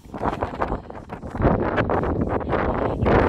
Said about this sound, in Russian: И только ветер гудит.